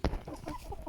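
A hen clucks on a village farm in the morning, giving a short, close burst of clucks followed by softer clucking over quiet farmyard background.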